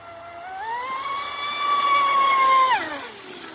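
A Pro Boat Impulse 32 RC speedboat motor whines alone on a lake, its pitch climbing as it speeds up, then dropping off sharply near the end.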